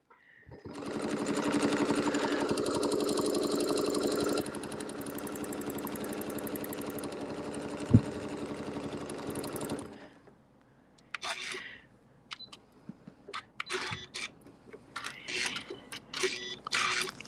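A sewing machine stitches a quilt with a steady, loud mechanical whir for about ten seconds, one sharp click midway, then stops, leaving quiet handling noises and faint rustles.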